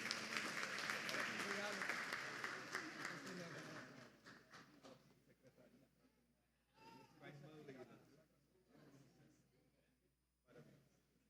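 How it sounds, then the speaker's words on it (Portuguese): A church congregation at a missions service claps for a member, loud sustained applause for about four seconds that fades out, followed by someone speaking quietly over a faint room hum. "Dê uma salva de palmas ao Bernardo."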